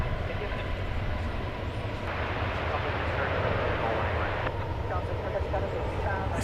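Airliner touching down on the runway at DFW airport, a broad steady rumble of engines and rolling wheels with a slight shift partway through, while people talk over it.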